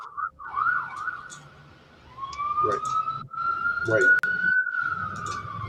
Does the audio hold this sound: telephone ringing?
no